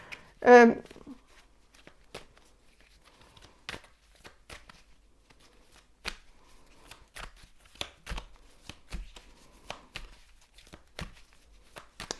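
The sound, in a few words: tarot cards being shuffled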